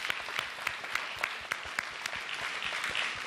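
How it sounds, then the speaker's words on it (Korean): Congregation in a church applauding together, a steady dense wash of clapping with sharp individual claps standing out, sustained at an even level throughout without any talk. "우리 모든 영광의 박수 하나님께 올려드리겠습니다."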